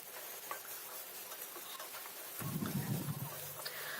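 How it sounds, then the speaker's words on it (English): Onions frying in a tablespoon of oil in a pan, a steady soft sizzle that swells louder partway through as the onions hit the hot oil, continuing close and unbroken to the end. "I'm going to heat 1 tablespoon of oil in a pan, and I'm going to add the onions and fry them till they're nice and translucent"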